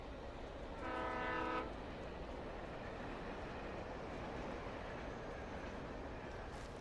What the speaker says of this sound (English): I was afraid a train was just going to come at me.